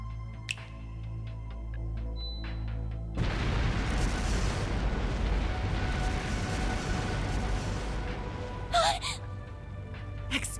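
Explosive artifacts scattered through Vashtar Palace in the video game Trails Through Daybreak go off as a sudden loud, sustained burst of blasts and rumble after a quieter opening, with a sharp crackling pop near the end.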